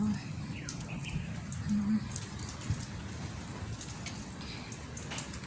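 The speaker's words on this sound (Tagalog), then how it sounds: "Sobrang lakas ng ulan, my gosh." Steady rain hisses and patters in a dense wash, with brief faint chirps and a muffled voice in the background.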